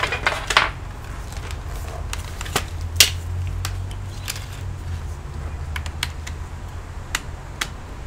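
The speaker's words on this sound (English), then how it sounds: "you can hear external keyboard is same as the internal keyboard" Scattered clicks on an external computer keyboard plugged into a laptop tap at an uneven pace over a low, steady hum, close by and fairly quiet, with no talking.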